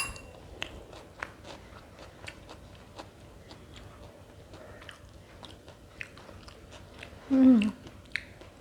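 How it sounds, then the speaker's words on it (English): Crunchy double-roasted chana salad is chewed close up during a taste test, a series of small crisp crunches and bites ticking at a steady pace, ending with a brief louder murmur near the end. "this is a little bit difficult to chew"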